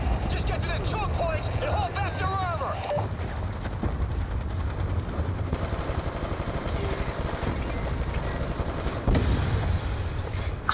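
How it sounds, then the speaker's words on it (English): Gunfire and explosions in the Call of Duty: Black Ops II campaign, dense bursts and booms layered over a continuous rumble of battle, with whistling effects early on and a sharp blast near the end, and no talk over it. "Explosions."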